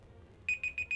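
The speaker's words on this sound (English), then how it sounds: "There goes my mini timer." A mini timer alarm goes off with four quick, shrill electronic beeps in an even rhythm, sharp and clear over a quiet room.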